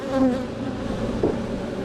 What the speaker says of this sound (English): a lot of bees here